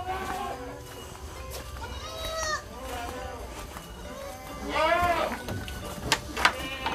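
Peranakan Etawa goats and their kids bleat on a farm in Kaligesing. Several wavering bleats of different pitches rise over a low farmyard background, with the clearest near the middle and another strong cry toward the end, alongside faint voices.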